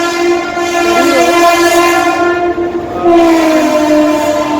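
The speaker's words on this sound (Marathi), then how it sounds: "ट्रेन जा रही है" A train rolls past near Lower Parel, Mumbai, with a long, loud horn blaring steadily over a continuous rumble of wheels.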